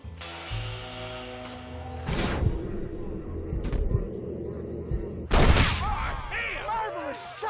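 Gunshots ring out in Red Dead Redemption, a few loud sharp cracks with echo and a heavier blast near the end, mixed with in-game voices talking and shouting.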